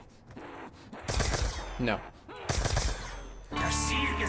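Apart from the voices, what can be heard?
gunshots from a weapon in video game Call of Duty: Black Ops 2 Zombies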